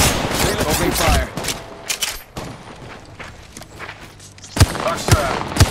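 Rapid gunfire in the Apex Legends Mobile battle-royale shooter, loud bursts of automatic shots and sharp single cracks spread across the moment, with in-game voice lines mixed in.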